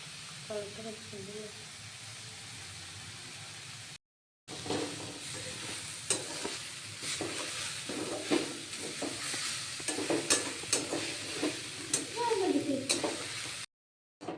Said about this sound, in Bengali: হালকা একটু ভাজা হয়ে গেছে